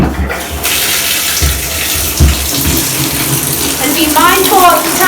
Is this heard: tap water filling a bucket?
yes